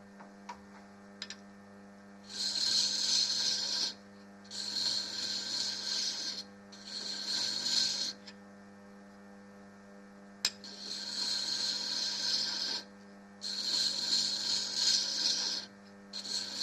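A hand thread-cutting tool rasps through a workpiece in repeated strokes, each lasting one to two seconds with short pauses between, over a steady low electrical hum in a quiet workshop.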